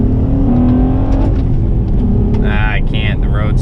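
An Acura TL AWD with a six-speed manual accelerates in second gear toward about 4,000 rpm, its engine a steady, loud drone with a rising harmonic whine, while someone talks over it from inside the cabin.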